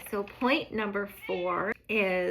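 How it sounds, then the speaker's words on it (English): A pet cat named Jack meows repeatedly and loudly up close, with drawn-out, wavering cries, while a person talks over the same moments. "you can hear my cat Jack in the background"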